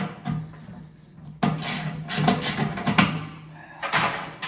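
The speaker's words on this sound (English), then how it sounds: "we're just going to use a 7/16 inch socket to remove these 3 mounting bolts" A 7/16 inch socket wrench works on the mounting bolts of a furnace blower motor, producing close, rough ratcheting and grinding scrapes in uneven bursts with brief pauses and a sharp start midway.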